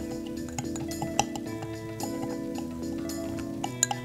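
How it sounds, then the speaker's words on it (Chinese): Coarse salt is stirred into a melted soap base for fruit jelly soap, giving light, irregular clinks and taps of a utensil against a container, with ringing tones under a steady background. "那我们这个时候呢，我们要去搅拌它"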